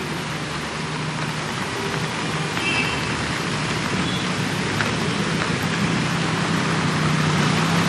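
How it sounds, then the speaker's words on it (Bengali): Heavy downpour on Kolkata streets, a steady dense hiss of rain falling on surfaces with faint traffic underneath, unbroken and fairly loud throughout. "শহর কলকাতায় সকাল থেকেই মুষলধারে বৃষ্টি"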